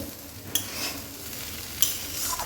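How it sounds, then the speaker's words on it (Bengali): Soft, steady sizzle of potatoes frying in a pan, with two sharp metallic scrapes of a spatula against the pan. "আর এটা হচ্ছে আলু ভাজা, প্রায় হয়ে এসছে, তাও একটু ভাজবো।"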